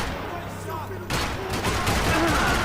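Rifle gunfire rattles in the video game Max Payne 3, a quieter stretch giving way to a sudden sustained barrage of dense, overlapping shots that stays loud to the end.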